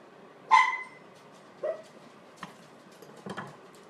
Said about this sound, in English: Little yappy dog.